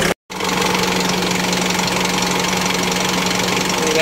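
Isuzu MU-X engine idling after cleaning of the EGR, intake manifold and throttle body, a steady rough mechanical drone with an even knocking pulse, close and continuous after a brief dropout at the start.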